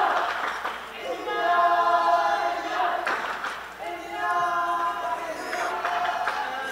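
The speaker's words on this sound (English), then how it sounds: "Indian crowd willing their team home." Crowd of Indian supporters cheering during a close under-18 girls' rugby sevens match against Hong Kong, China, a steady roar rising and falling in two swells, with a commentator's voice running over it.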